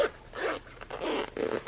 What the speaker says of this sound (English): what I'm going to do is I'm going to now open up my zipper